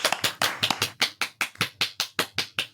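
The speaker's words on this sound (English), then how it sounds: "A big round of applause for Dr. Christine, everybody." A round of applause at a live podcast recording, heard as a series of separate, fairly sharp claps in an uneven rhythm, moderately loud and with no voices over it.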